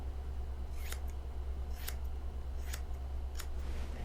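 Scissors cut a side-sweeping hair fringe, four sharp close snips spaced about a second apart over a low steady background hum.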